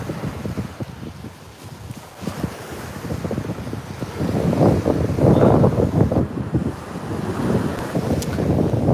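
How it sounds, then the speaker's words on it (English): Wind blowing at the coast beside a boat wreck, a loud continuous rush buffeting the microphone, swelling stronger midway with a wash of surf beneath, alone without voices. "It's just got a bit of wind,"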